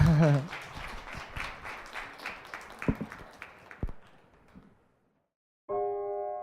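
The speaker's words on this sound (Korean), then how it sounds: "정말 열광을 해주신 심영원 선생님께 큰 박수를 부탁드리겠습니다" Audience applause for a lecturer after a talk on constitutions rises briefly, then thins into scattered claps and fades to silence, followed by a short sustained tonal sound.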